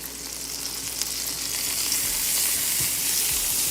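Onion and minced garlic sizzle steadily in a pan for a steak au poivre sauce, a continuous close frying hiss that swells slightly, with a few soft stirring clicks.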